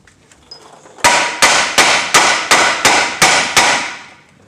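Eight sharp, evenly spaced hammer blows striking a stuck CV axle on an Acura RSX Type S during lower control arm work, loud metallic clangs with short ringing decay, close by and alone.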